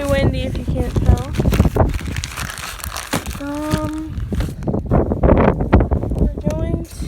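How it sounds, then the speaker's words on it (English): Strong wind buffets a microphone outdoors in an early spring garden, a rough, gusty roar that rises and falls while a person talks intermittently over it. "very windy if you can't tell"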